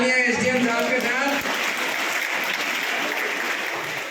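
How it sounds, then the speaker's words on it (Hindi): Sustained crowd applause at a public event honouring an SDM, dense and steady throughout, opening briefly under a speaker's voice before the clapping takes over. "एक बार जोरदार तालियां एसडीएम साहब के साथ"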